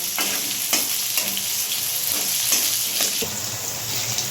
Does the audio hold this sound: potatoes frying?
yes